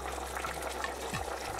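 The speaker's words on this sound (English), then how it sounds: "Let it boil for about 10 to 15 minutes until the potatoes and daikon radish cook and soften." A pot of mackerel, potatoes and daikon radish bubbles steadily at a boil, giving a continuous close, moderate simmering hiss with no voices.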